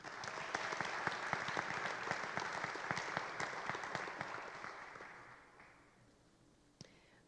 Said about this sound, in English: Please join me in another round of congratulatory applause for our scholarship recipients this evening.